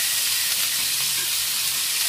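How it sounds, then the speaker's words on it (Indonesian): Broccoli stir-fries in a pan with oil and fried garlic, giving a loud, steady, close sizzle and hiss that runs unbroken the whole time, with no talking. "Sekarang kita masukkan brokolinya ya."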